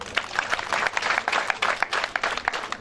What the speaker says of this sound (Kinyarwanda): mwongere muyiha amashyi